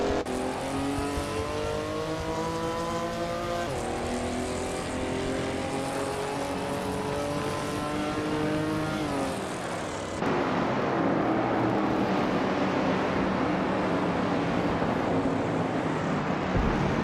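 A 1970 Ford Mustang race car engine drones loud and close during a race, its pitch climbing steadily through the gears before an abrupt change to a rougher, broader roar.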